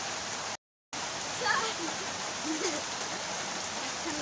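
Steady rain comes down in a thunderstorm, an unbroken wash of hiss interrupted by a short gap of silence near the start, with faint voices briefly audible beneath it.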